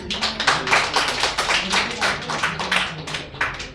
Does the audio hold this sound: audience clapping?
yes